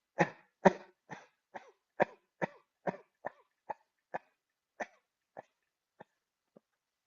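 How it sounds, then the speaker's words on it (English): A series of about fifteen short, deliberate coughs in a breathing exercise, evenly paced, starting strong and growing softer and more spaced out until they fade. "we take a gentle breath in, and we cough out."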